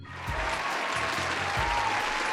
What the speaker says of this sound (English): I'll give him a round of applause, Kim.